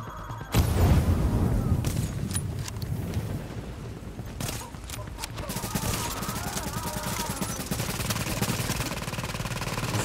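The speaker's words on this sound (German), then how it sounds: "Da scheint ein gutes Maschinengewehr zu haben" Machine gun fire in the video game Tom Clancy's The Division, a loud sudden burst of rapid shots followed by continuous dense gunfire and booms with no talk.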